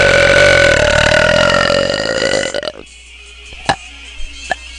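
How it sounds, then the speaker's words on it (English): A girl lets out one long, loud, rumbling belch lasting over two seconds, followed by a few short clicks and small sounds close to the microphone. "I need some gum to really power up my belches"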